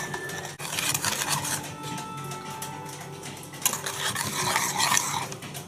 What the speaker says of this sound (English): I'm going to just like whisk that a little bit